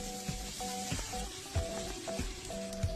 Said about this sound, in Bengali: আলুটা ভাজা হলে দিয়ে দেবো ঝিঙে দু মিনিট ভাজবো আবার